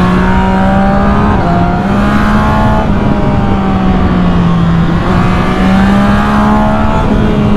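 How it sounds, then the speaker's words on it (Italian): A BMW car's exhaust during a mountain road race on Passo della Cisa, a loud continuous engine drone that rises and falls with shifting revs, close and steady throughout. "Dietro sento lo scaricozzo di Ale con la sua BMW."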